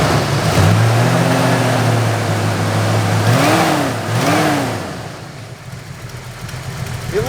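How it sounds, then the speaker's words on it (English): A classic car's 318 V8 engine running with a slight misfire, a steady low idle that blips up in revs twice before settling back, heard close and alone. "So the motor runs with a little bit of a miss"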